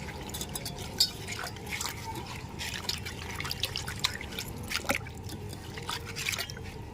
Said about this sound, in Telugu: వీటిని శుభ్రంగా నీళ్ళలో ఒకటికి రెండు సార్లు కడిగి